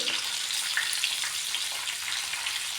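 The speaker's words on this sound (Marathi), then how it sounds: "कारली छान परतून घेऊया परत दुसऱ्या साईडने" Bitter gourd pieces fry in a pan over medium heat, giving a steady, close hissing sizzle with faint crackles and no one speaking.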